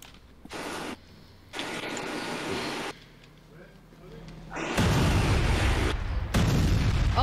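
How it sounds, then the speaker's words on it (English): Missile blasts in a S.W.A.T video game, several loud booming explosions in bursts with rumbling tails, excited voices talking over them. "They're throwing missiles."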